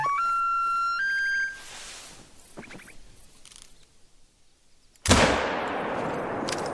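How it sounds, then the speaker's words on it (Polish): A single sharp rifle shot in the hunting video game theHunter: Call of the Wild cracks loudly after a stretch of quiet game tones and soft noises, its broad blast trailing off into a fading echo. "Dobra, poszedł strzał."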